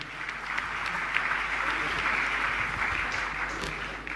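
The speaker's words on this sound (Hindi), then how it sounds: "तालियां" Devotees gathered at a Jain religious discourse applaud together in a steady round of clapping that swells slightly in the middle, some distance away in a large hall.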